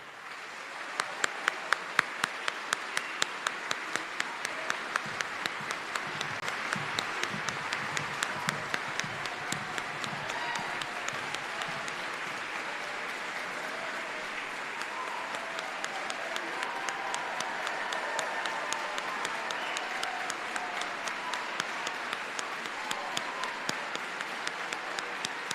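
A long, sustained round of audience applause fills the hall at a high school band concert, many hands clapping steadily for the band directors, dense and even throughout with no talking.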